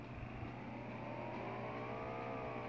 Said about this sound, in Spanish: ya venía escuchando yo la moto desde que lo maté